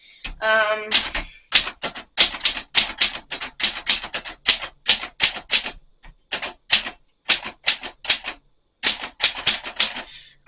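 A Royal manual typewriter typed on with hard presses, giving a fast run of crisp, loud key clacks in uneven bursts with a few short pauses, close by and with no talk over it.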